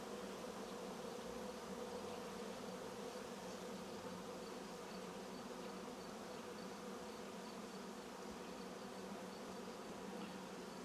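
A honey bee swarm colony in a hive under inspection gives off a steady, dense buzz that holds level throughout, fairly close and unbroken, with no talk.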